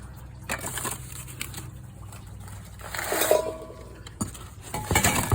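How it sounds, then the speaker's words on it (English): Large and small fry pans and a medium-large saucepan unpacked and handled, with scattered metallic clinks, clanks and knocks of cookware against each other at close range, plus rustling between them. "A large fry pan. A medium large saucepan."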